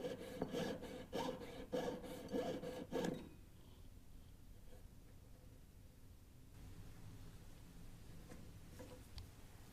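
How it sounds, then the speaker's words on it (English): A hand saw blade works up and down through a metal ring with quick, rhythmic rasping strokes for about three seconds, then a faint, quieter scraping follows. "gently go up and down and use your whole saw blade"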